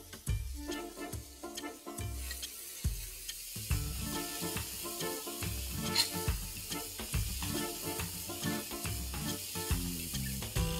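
Butter sizzles in a pan of sautéed masala for pav bhaji, a continuous soft hiss sitting beneath rhythmic background music.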